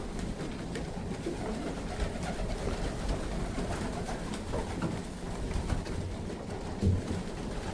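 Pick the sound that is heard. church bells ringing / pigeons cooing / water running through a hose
pigeons cooing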